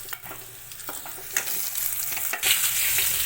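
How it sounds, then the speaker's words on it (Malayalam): Curry leaves frying in hot oil for tempering a Kerala curry, bursts of crackling sizzle with stirring scrapes that grow louder toward the end. "കറിവേപ്പില കൂടി ചേർത്ത് കഴിഞ്ഞപ്പോൾ നമുക്ക് താളിക്കാനുള്ള സംഭവം റെഡി ആയിട്ടുണ്ട്"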